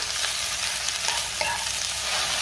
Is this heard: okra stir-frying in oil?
yes